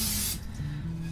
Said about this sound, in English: Spritz the bar pan